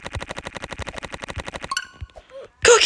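Rapid, evenly spaced gunfire from a sniper rifle in the video game Roblox, about fifteen sharp shots in a steady rhythm, then a short burst of game sounds and a louder final blast.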